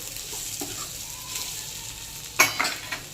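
Vegetables sizzle and are stirred in a hot pan while desi noodles made from leftover roti are cooked, with a soft, steady frying hiss and a sharp scrape of a utensil near the end.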